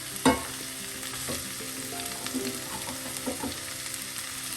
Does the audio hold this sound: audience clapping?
no